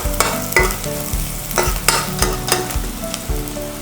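Potato filling fries in a pan for a potato idli roll. A spoon scrapes and stirs in loud, uneven strokes over a soft sizzle, close up, with no voices.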